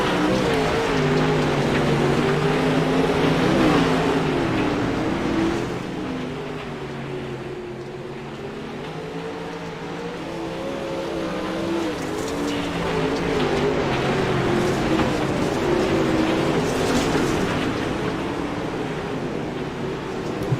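Dirt late model race cars lap a track at Fairbury, their engines a continuous droning roar with rising and falling pitch as they pass, heard from a distance over steady background noise.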